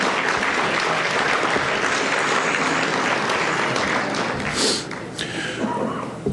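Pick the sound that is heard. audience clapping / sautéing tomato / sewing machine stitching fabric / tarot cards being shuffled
audience clapping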